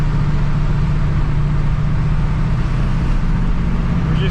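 A Duramax diesel pickup truck cruising on the road, a steady low engine drone and road rumble continuing evenly throughout with no talk.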